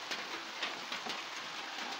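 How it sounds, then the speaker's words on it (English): Heavy rain pours down on a goat and sheep farm in western Jamaica, a steady, dense hiss of drops with a few louder spatters and no voices. "The rain come down heavy and heavy."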